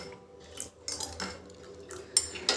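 A spoon stirs and mixes two ingredients for a homemade hair treatment in a bowl, giving light clinks and scrapes in short irregular bursts, close and fairly quiet.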